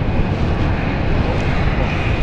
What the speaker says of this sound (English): Iberia is off. It's only what, half an hour late, but she's taxiing.